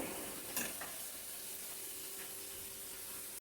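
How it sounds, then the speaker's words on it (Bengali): Taro kofta balls sizzle in hot oil in a kadai, a steady, fairly faint hiss with a brief burst of crackling early on. "এখন গোল গোল করে কোপ্তার আকার করে দিয়ে দিচ্ছি তেলের মধ্যে"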